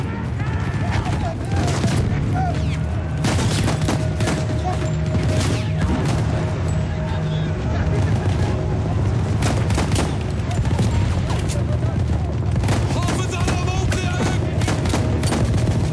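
Sustained gunfire and explosions from the video game Battlefield 1, with dense bursts, booms and rattling shots filling the whole stretch loudly, under steady battlefield din.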